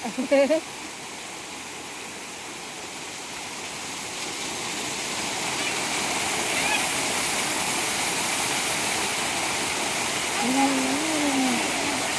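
A continuous, hissing rush of falling water from a waterfall where people are bathing, steady and close, with a brief voice at the start and another faint one near the end.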